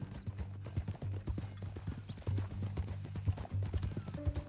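Horse hooves clip-clopping in the video game Red Dead Redemption 2, a steady close trot of sharp knocks over low ambient hum, with no talk.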